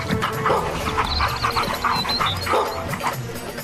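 A dog barks and yips in a busy outdoor street setting near a shop, a few quick close barks mixed with whimpers and panting over steady background noise.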